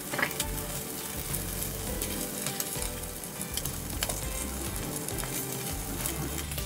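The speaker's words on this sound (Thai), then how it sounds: "กำลังผัดกุ้งอยู่กุ้งตัวเล็กเริ่มสุกแล้ว" Small shrimp stir-frying in a dry, very hot pan give a steady, loud sizzle with scraping stir strokes running throughout, close up and without talk.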